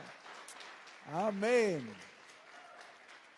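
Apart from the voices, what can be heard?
congregation applauding loudly, sounding like rain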